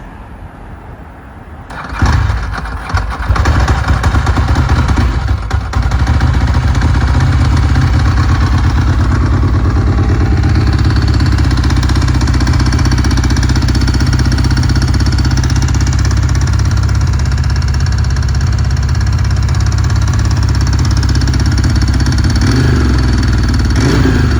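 A 1993 Ducati 888 motorcycle cranks and fires, then settles into a loud, steady idle on choke with a rough, clattery mechanical tone held close up for the rest of the clip.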